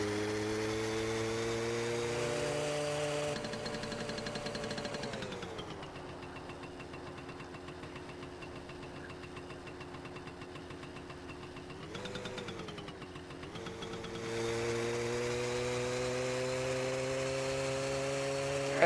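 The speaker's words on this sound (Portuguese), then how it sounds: "Vamos pegar a rodovia aí de moto, mano." A motorcycle engine on a highway in the video game My Summer Car 2 drones steadily, its pitch dropping as revs fall and later climbing again as it speeds back up, with no talk.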